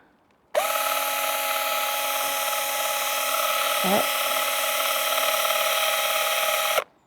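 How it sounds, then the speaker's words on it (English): A power drill boring a couple of holes at an allotment garden, whining steadily for about six seconds with a brief pitch dip midway, loud and close, with a short spoken word over it. "I am going to drill a couple of holes."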